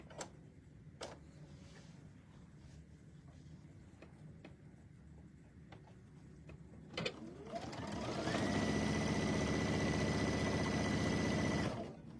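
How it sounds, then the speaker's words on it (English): A sewing machine stitching a towel bag, a few faint handling ticks first, then a loud steady mechanical whir that runs for about four seconds and stops. "we're going to sew it in place."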